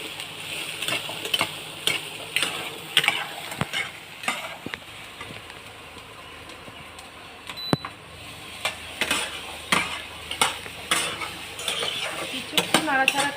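Small potatoes being stirred in a pan for Bengali aloo bharta, the utensil scraping and clinking against the metal in irregular bursts with a faint sizzle underneath, close and moderately loud, no talking.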